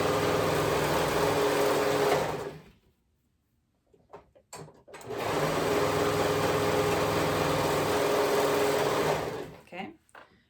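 A sewing machine stitches fabric pieces right sides together along a short raw edge for overalls, two long steady motor runs close by, split by a brief pause with a few handling clicks, then tapering off at the end.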